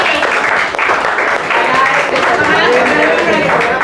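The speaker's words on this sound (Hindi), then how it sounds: "एक बार सभी बच्चा के लिए तालियां" Class 10 students in a classroom clap together in a burst of sustained applause, with a voice speaking over it.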